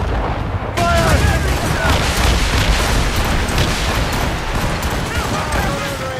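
Ship cannons firing in Assassin's Creed Rogue, a sustained rumbling barrage of heavy booms and crackling blasts that fills the whole stretch, with shouting voices mixed in over the gunfire.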